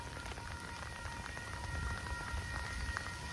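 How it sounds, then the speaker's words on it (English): Steady rain pattering on a surface, a dense continuous hiss of drops with a faint tonal hum in the background. "I really hope this rain stops sometime soon."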